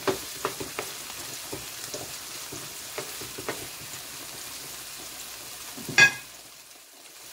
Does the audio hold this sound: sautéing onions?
yes